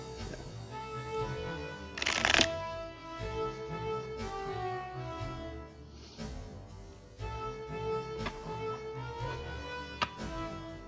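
Playing cards are riffled and shuffled close by in quick bursts, with a louder crisp flurry early on and softer snaps afterward.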